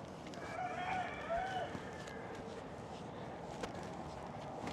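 A rooster crows a couple of times at a moderate distance over a steady outdoor hum in Ybor City, Tampa, followed by quieter background noise.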